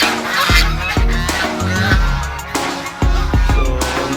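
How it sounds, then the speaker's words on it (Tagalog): Domestic geese on a rural farm honk loudly and close by, several repeated harsh calls in irregular bursts, with chickens nearby. "Gansa, manok. Ito maingay lang sila guys."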